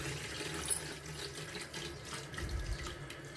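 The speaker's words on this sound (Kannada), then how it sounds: "ಸ್ವಲ್ಪ ನೀರು ತುಂಬಿಡ್ತೀನಿ, ಕೈ ಪೈ ತೊಗೊಳಕ್ಕೆ ಬರ್ತಾವೆ." A tap runs steadily into a container at a sink, a faint continuous water flow with no talk.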